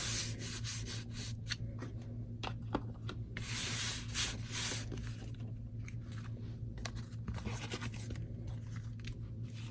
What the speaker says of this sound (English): I'm just going to line it up on my tag, hopefully, and rub that ink on there